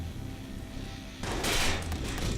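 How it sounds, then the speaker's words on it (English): Silenced assault rifle in the Watch_Dogs video game firing a short burst of muffled shots, following a quieter stretch of low background noise. "Good old silenced assault rifle"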